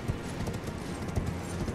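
Horse hooves clop steadily and fairly loudly as a horse is ridden along a high, narrow path in Elden Ring: Shadow of the Erdtree, with dense background noise throughout.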